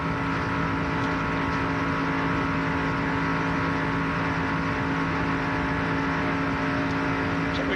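Stock cars race around a 2.5-mile oval during the 1997 ARCA 200, 80 laps, heard as a continuous loud droning engine roar with a steady pitch and no break across the clip.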